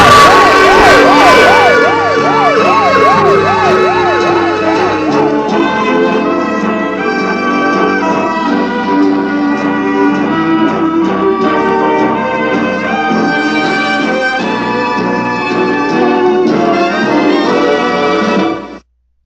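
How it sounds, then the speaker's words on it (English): Intro theme music for a weekly series counting down crazy soap opera plotlines opens with a brief wailing, siren-like sweep, then settles into steady, loud layered instrumental music that runs about nineteen seconds before cutting off abruptly. "So, let's hear the introduction music"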